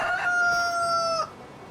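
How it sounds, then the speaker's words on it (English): A rooster crows in the farming video game Farming Simulator 25, one clear sustained tonal call held steady for about a second before cutting off cleanly, loud and close with no talk over it. "I got the rooster just for that purpose. You could hear it."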